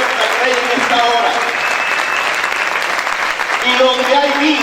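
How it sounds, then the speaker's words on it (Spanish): Loud, sustained clapping from a church congregation applauding the King, dense and steady from start to finish, with some voices audible underneath. "Aplaude fuerte al Rey en esta hora."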